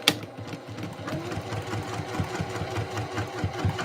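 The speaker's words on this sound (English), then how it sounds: "I'm just top stitching" A sewing machine top stitches a Christmas dress at a longer stitch length, a continuous mechanical whir with a rhythmic thumping pulse, close and steady throughout.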